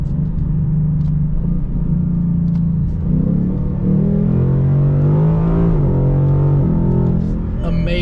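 A Mustang accelerates through dual-clutch-style paddle-shift gear changes, its engine a loud close drone whose pitch climbs and then steps down at each shift, with a voice talking over it.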